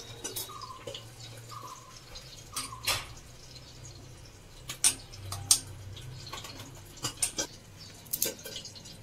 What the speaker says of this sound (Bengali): চিকন বেগুন, তাই আমি এরকম টুকরো করে করে নিচ্ছি